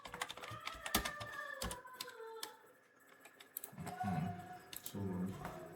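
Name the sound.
typing a file name on a computer keyboard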